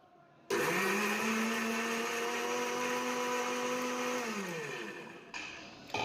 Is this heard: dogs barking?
no